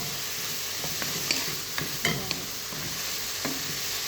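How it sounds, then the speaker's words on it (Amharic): Tomato and coriander sauté in a pan, with a soft steady sizzle and a few light utensil scrapes and taps as the mixture is stirred. "ከዛ በኋላ ቲማቲም እና ኮዝብራ ይሄን በአንድ ትንሽ እናቁላለዋለን ማለት ነው"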